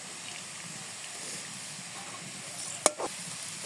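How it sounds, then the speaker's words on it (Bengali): Onion and garlic sizzle in hot oil in a wok for a tempering poured over cooked greens, a steady close frying hiss with a couple of sharp clinks from a utensil near the end. "পেঁয়াজ রসুন দিয়ে দিলাম"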